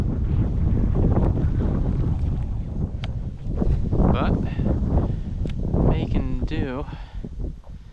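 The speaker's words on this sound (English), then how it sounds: "Man, this wind has really picked up." Strong wind roars and buffets the microphone in heavy gusts, with rustling underneath and brief moments of a voice mixed in.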